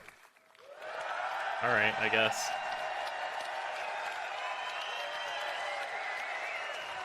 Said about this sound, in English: As you can hear, we've got a great crowd here in London.